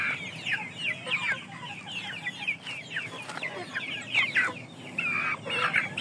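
Indio Gigante chickens clucking in a pen, a busy overlapping chorus of short clucks and squawks from several birds at moderate distance, with no talking.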